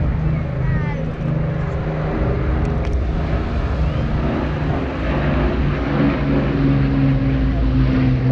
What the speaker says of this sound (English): One of only 2 Lancasters remaining worldwide